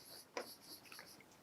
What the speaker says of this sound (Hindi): अब मैं यहाँ प्रॉपर्टी लिखता हूँ